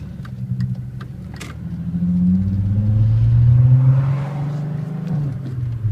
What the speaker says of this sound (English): Alright, put my foot down the clutch, first gear, and I drive.